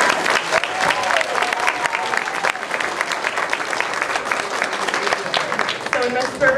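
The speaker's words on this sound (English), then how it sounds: "applause for Ms. Berber's class." Applause from an audience at a fifth grade class dance performance, dense continuous clapping with some crowd voices mixed in.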